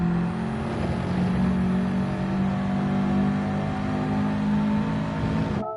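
Subaru WRX Gr4 race car engine in Gran Turismo 7 at Maggiore, a steady loud droning engine note held under braking into a corner, cutting off abruptly at the end.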